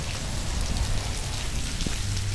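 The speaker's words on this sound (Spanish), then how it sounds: "quería hacer un buen video bajo la lluvia" Steady rain falling and pattering on a surface in Aguada, a continuous dense hiss with low rumble underneath, fairly close and even throughout.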